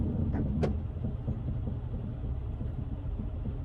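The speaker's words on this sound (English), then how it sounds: "my truck is like moving for some weird reason" A big rig truck lurching and rolling, heard from inside the cab as a continuous low engine rumble with a couple of faint clicks and rattles early on, and no talking.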